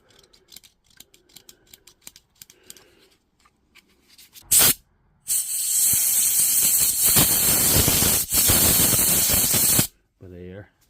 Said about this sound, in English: Just giving this a blast with a good old brake cleaner.